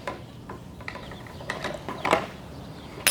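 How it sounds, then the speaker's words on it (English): A screwdriver tightens the head of an Echo Edgit edger wheel, giving a close series of small ratcheting clicks and rubbing scrapes that build toward the end. "reinsert your screwdriver to tighten the head back up"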